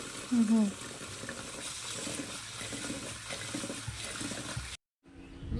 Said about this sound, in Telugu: 5 అవర్స్ నానబెట్టిన తర్వాత పొట్టు మొత్తం క్లీన్గా కడుక్కుని గ్రైండ్ చేస్తున్నారు ఇప్పుడు.